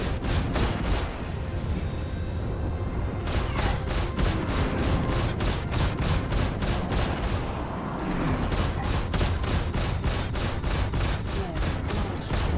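Gunfire from enemy ships in the space game Star Citizen, steady rapid strings of sharp shots repeating throughout, with a brief gap before the volleys resume, loud over constant engine hum.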